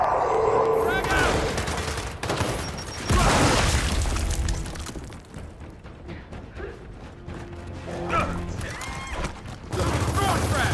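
Frag grenade blast and rapid gunfire in the video game Gears of War 4, dense bursts of shooting with a heavy boom, loud and continuous, with voices talking over the combat.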